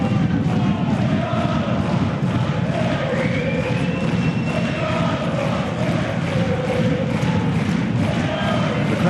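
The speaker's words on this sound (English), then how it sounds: "The crowd certainly doing their bit here." Dense stadium crowd noise at a Dundalk FC versus BATE Borisov football match, a continuous roar of voices and chanting with scattered shouts, steady and loud throughout, with no pauses.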